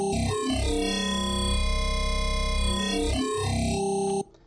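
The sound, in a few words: wavetable synthesizer tone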